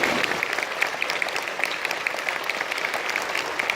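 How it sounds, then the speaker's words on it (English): Modest applause from a middle school audience after a beginning band's first songs at a Christmas concert, scattered clapping at moderate distance and fairly quiet. "You can clap for them."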